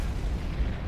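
A bomb going off in the Hundred Line Last Defense Academy video game: a dense, sustained low rumble with heavy booming bursts that fill the whole second at steady loudness, with no voices.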